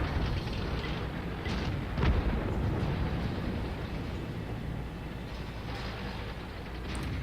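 A tank cannon booms in World of Tanks during a T-43 medium tank match, a heavy low thump within a constant rumbling engine and battle din.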